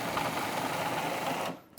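A food processor whirs at full speed, blending a sweet potato chocolate cake mixture with coconut, as a loud, dense, continuous motor whine that cuts off abruptly near the end.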